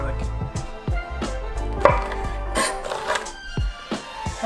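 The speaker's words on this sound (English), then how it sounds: "while I'm chopping these up" A kitchen knife chops vegetables on a cutting board in a steady series of close, sharp knocks with a few louder strikes, no talking over it.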